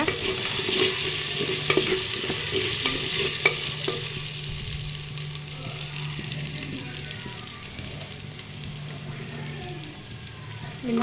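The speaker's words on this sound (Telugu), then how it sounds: "ఇది కొంచెం ఫ్రై అయిన తర్వాత ఇలా" Vegetables fry in a pan with a continuous crackling sizzle and occasional stirring knocks early on, and the hiss eases gradually toward the end.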